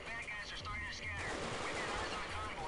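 Gunfire in the Black Hawk Down video game, bursts of rapid shots crackling close and loud, turning into dense sustained fire in the second half.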